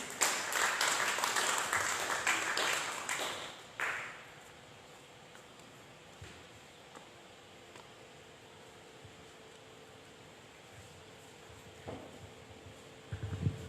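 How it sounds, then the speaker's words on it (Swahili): A church congregation claps to welcome the pastor at a Wednesday revival service, a burst of dense applause lasting about four seconds before fading into quiet room hum with a few scattered claps. "Basi tumkaribishe mchungaji kwa makofi pia."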